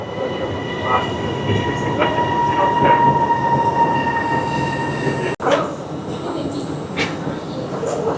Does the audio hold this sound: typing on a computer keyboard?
no